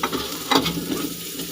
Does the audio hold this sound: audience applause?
no